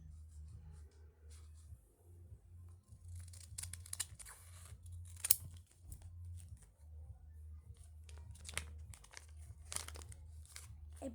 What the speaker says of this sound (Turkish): Evet pembeyi kesiyoruz.